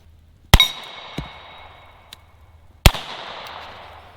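Two sharp .357 revolver shots ring out against Texas Star steel targets, each followed by a bright metallic clang and ringing tail, with a fainter ping between them.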